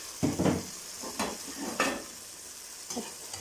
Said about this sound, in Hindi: अच्छी तरह इसको जो है हम भून लेंगे, बहुत कम मसालों के साथ बहुत मज़ेदार सी ये चिकन कढ़ाई बनती है।